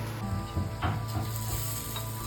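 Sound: breadfruit (nirphanas) slices sizzling while frying in a pan

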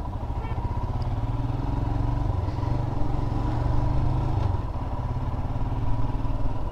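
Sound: Royal Enfield Himalayan motorcycle riding off-road

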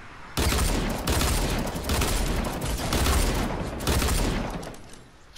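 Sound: dual-wield pistol gunfire in Fortnite video game

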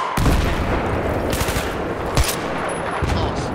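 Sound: light machine gun firing in video game Battlefield 3

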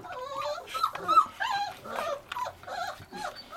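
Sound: Bully Kutta puppy whimpering while being fed

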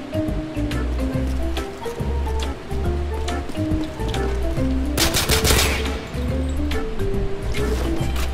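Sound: gunshots from a sniper shooting video game

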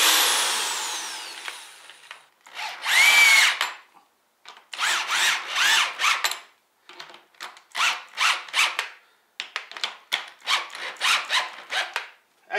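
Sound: hammer drill drilling boat trailer

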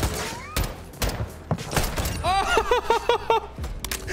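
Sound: hip-fire gunshots in video game Call of Duty MW2

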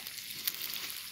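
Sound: onions frying in a little oil over a fire

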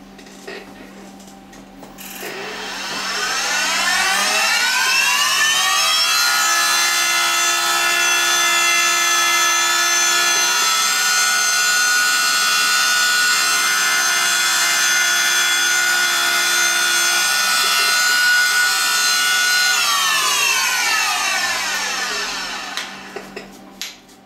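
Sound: engraving machine cutting metal

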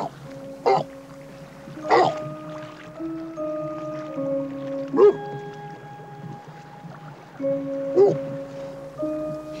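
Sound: orphaned walrus pup calling

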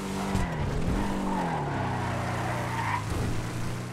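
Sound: Shyster Deviant car skidding, video game Grand Theft Auto 5

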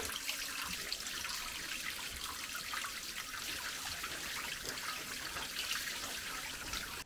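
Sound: spring water trickling at a cave monastery

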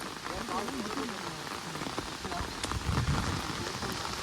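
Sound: heavy rain falling

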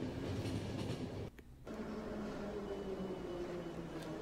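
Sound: train pulling into a station in the video game The Final Station

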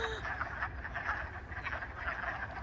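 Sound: toads croaking in mating season

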